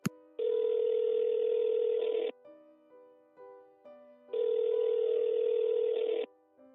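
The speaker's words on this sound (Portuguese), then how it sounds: "David pegou seu telefone e discou para o número de Maggie." Telephone dialing in an audio drama, with two long, steady dial tones separated by a series of short, rapid key tones, clear and close.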